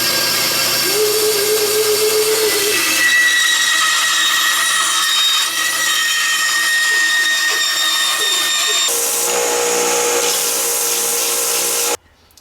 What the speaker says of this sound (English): I'll lightly lay this down on a belt sander